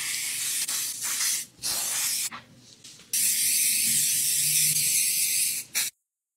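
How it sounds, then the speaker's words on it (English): Hairspray sprayed onto a styled ballroom up-do in long, loud hissing bursts, several separated by brief pauses, with one long continuous spray before it cuts to silence. "I think it'll stay with just some hairspray."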